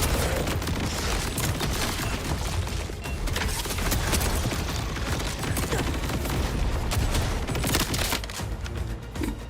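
Dense, continuous enemy gunfire and booming impacts in the video game Borderlands 4, loud and chaotic throughout with no clear pauses.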